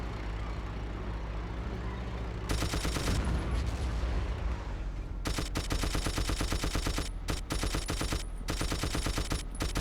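A tank's mounted machine gun fires in long, rapid bursts in a video game, loud and close, with short gaps between strings of shots over a low rumbling engine background.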